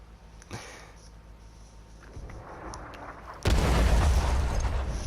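Artillery fire in World of Tanks, with a sharp distant crack early on, then a heavy, loud blast and rumbling roar that sweeps in and holds to the end.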